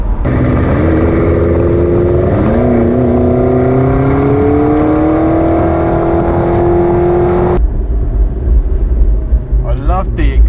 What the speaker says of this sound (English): You can tell that you're in a V8. It's got that V8 rumble